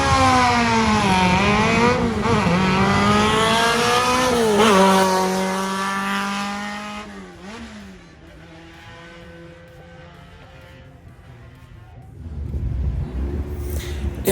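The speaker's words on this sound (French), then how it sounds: "Anthony Séguin au départ en Simcarali 2 FC1, c'est-à-dire 1300, boîte 4, moteur 9." A 1300 cc Simca rally car with a four-speed gearbox revs hard at a hill climb start and climbs through the gears, then fades into the distance, leaving quieter background noise before another engine rumble rises.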